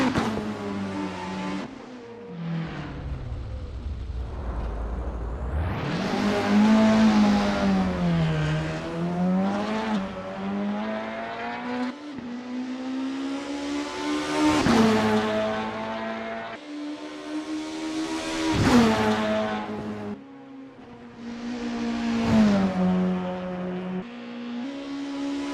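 Racing-game touring cars from the 90s BTCC class run a practice out lap at Autodromo Buenos Aires, engines revving up and down through repeated gear shifts, one car loud and close, with light tire squeal.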